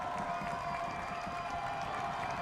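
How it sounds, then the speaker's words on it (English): A high school football stadium crowd cheers during a night game between Normal West and Bloomington, a steady, dense roar of voices and scattered clapping that holds at one level, heard from a distance. "the crowd's never been louder, never been more into it"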